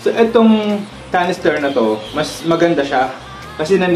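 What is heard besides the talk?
No everyday noises stand out.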